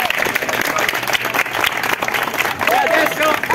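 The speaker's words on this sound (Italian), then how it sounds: "Ancora un applauso e grazie a voi per essere venuti qui." Theatre audience applausing at the end of a staged episode, dense and loud clapping from a crowd sustained throughout, with voices mixing in beneath the clapping.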